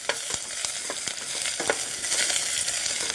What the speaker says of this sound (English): you should hear a sizzle straight away, along with my pepper and my carrots